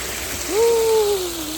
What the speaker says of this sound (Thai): ตรงนี้ก็มีน้ำตก